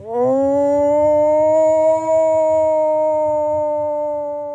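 A purported bigfoot howl from an old cassette recording: one long, loud, sustained tonal wail rising briefly, then holding steady with rich harmonics before slowly fading, over faint tape hiss and low background rumble.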